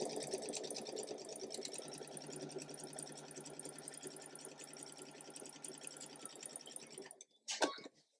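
A sewing machine runs steadily for about seven seconds, stitching fabric pieces into half square triangles for a mystery quilt, then stops with a short clatter. It sounds quiet and close.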